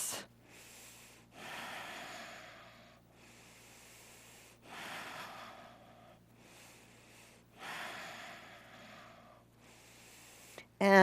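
Slow, audible breathing during a held yoga stretch, with long inhales and exhales in a steady rhythm of about four breath cycles, close and clear over a faint background hum.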